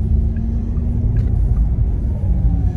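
Porsche Taycan Turbo S electric car driving on a road, a steady low rumble of tyres and motor with a faint rising whine, continuous and close from inside the cabin, no one speaking.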